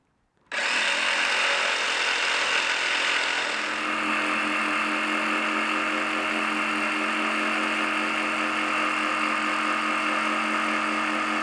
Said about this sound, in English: the best way to cut it, one of the best ways anyway, is with a very fine tooth jigsaw blade